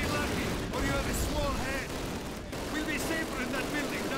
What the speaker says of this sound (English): the machine guns have not stopped firing